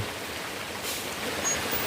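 Steady rain falls over a waterlogged roadside, a dense even hiss of drops with no voices and only slight swells in loudness.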